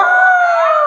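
A person imitates a dog's howl: one loud, sustained, slightly wavering howl, close up.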